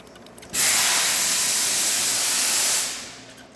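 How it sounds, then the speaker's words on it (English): A Breville espresso machine's steam wand, on a machine repaired for a failed 3-way solenoid valve, lets out a loud, steady broadband hiss. It starts abruptly, holds for about two seconds, then tapers away, with no talking. "And then for the steamer."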